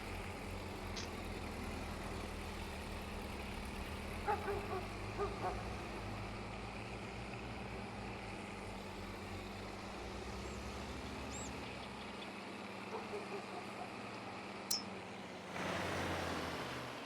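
Tractor engine running in a vintage farming survival video game, a steady low droning hum held throughout with a few faint clicks and small knocks on top.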